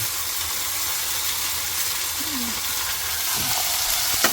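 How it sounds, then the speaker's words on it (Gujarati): Chillies and onions with garlic sauté in a hot pan for paneer chilli, giving a steady, close hiss and crackle of frying that carries on without pause and with no voices. "એક સાથે બધું નાખી દીધું છે આમાં સોટે કરવા માટે"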